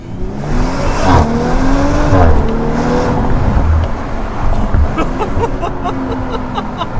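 A modified ABT exhaust on a 530 hp Audi RS5 R revs loudly and close by, with a sustained rising and falling engine roar and no talking.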